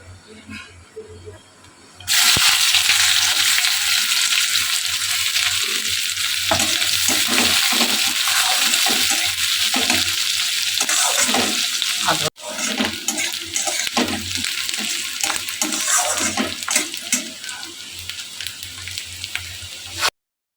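Bay leaves drop into hot oil for tempering and burst into a loud, continuous sizzle that carries on steadily for the whole stretch, with a brief break midway.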